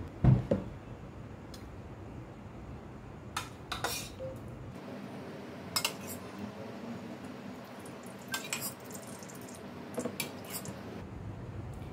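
Thick set curd is spooned into a muslin cloth, with wet squishy plops, scattered spoon and bowl clinks, and quiet gaps between scoops.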